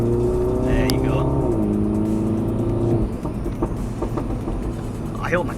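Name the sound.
Mini Cooper S JCW engine revving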